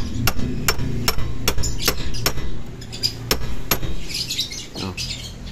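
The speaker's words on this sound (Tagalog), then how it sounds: "Pupukin natin ng konti, pero konting-konti lang yung para mag-ano lang siya, lumapat." Sharp metallic hammer taps on a boss kit hub adaptor for a Mitsubishi Pajero Gen 2 4M40, roughly a dozen evenly spaced close strikes with ringing clinks, fading into quieter scraping near the end.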